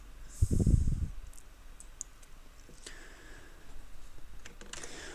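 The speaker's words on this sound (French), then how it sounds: "Et là on va cliquer sur s'inscrire." Computer mouse clicking a sign-up button, a few small, close clicks scattered across a quiet room with light background noise.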